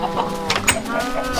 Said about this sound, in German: Das Huhn hat ein Ei gelegt.